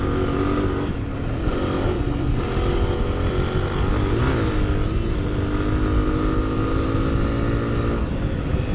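A 2023 Honda CRF250F dirt bike ridden on a farm, its engine droning steadily with a mild rise in revs midway, sounding fairly close and continuous without any talking.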